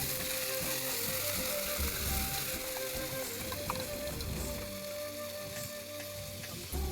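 Onion and garlic frying in a pan for a Gujarati tuver dish, a loud steady sizzle with faint clinks of stirring throughout, no talking.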